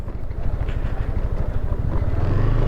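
A 2022 Kymco Xciting S400i scooter being ridden on asphalt, its engine a loud, steady, close low rumble with a slight throttle swell toward the end and no talking.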